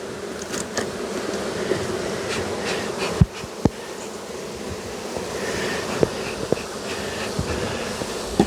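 Honeybees hum steadily around an open hive during colony work, a dense continuous buzz close by, punctuated by several sharp knocks and clicks from handling the frames.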